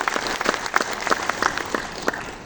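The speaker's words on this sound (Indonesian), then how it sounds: "tepuk tangan dong" Applause from an audience at the opening of a Paguyuban Ngesti Tunggal Pangestu congress, with individual claps standing out irregularly in a moderately loud, steady patter over about two seconds.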